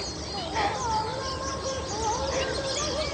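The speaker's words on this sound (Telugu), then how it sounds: "పక్షులు కిలకిల రాగాలు తీస్తున్నాయండి." Birds chirp and twitter repeatedly in the morning in a small village near Kodad, over a steady background hum, with light tweets scattered throughout.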